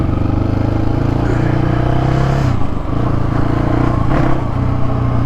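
A Polaris Predator 500 ATV engine runs loud and close under thumb throttle on gravel, a steady rumbling drone with a brief dip in the middle and slight shifts in pitch.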